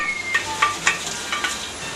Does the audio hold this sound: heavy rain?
no